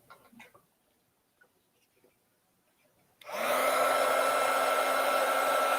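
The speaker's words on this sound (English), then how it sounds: "Just take your heat gun" A heat gun starts up partway through, a steady loud blowing roar run over foam embroidery on a hat after thread trimming; quiet handling sounds come before it.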